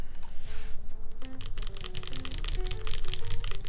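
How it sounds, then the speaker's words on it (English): Typing on a Noxary Vulcan Pro mechanical keyboard: a steady run of soft, muted keystrokes close up, continuous clacking with no speech over it. "Does kind of sound like typing on pillows?"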